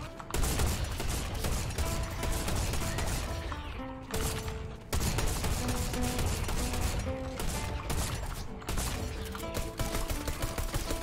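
Shotgun blasts and gunfire in a Fortnite zombie survival map set at a summer camp, repeated bursts over a continuous backdrop of game music, loud and dense throughout.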